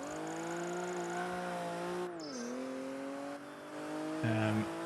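A car in the racing game Project Gotham Racing 3 slides through a corner on the Tokyo circuit, a sustained engine drone dipping in pitch with tire squeal layered over it, loud and continuous.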